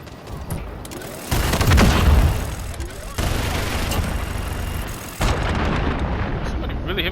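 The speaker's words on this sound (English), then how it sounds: "Somebody really hit me with a cruise missile?" A cruise missile strikes in the video game Call of Duty Modern Warfare, producing a loud, deep booming blast followed by rolling rumble and further impacts, with a player talking around it.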